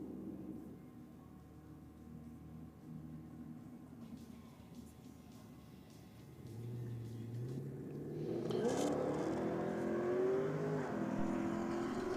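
A nitrous-powered VY Commodore launches on a drag strip at night, its engine note building steadily into a loud, rising roar toward the end as it accelerates away.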